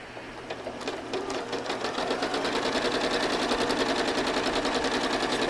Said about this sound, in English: I've stitched all the way up to that corner, and one more stitch